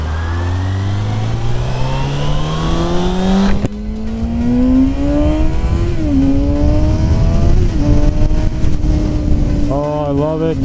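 A 600cc motorcycle engine revs hard while riding, its pitch climbing steadily, dropping at a sharp gear shift, then rising again through further shifts with heavy wind rush underneath, loud and close.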